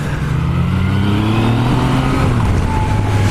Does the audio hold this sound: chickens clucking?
no